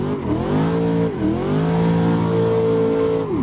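A Corvette C6 drifts in Assetto Corsa: its engine holds a loud, steady high rev with a brief dip and recovery in pitch, close and continuous.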